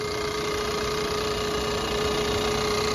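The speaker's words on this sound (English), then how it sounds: "And it sounds good too. Nice purr," A Ford Edge Titanium's engine idles smoothly under an open hood, a steady close mid-pitched hum with a faint constant whine and no knocking or ticking, running alone without any voices.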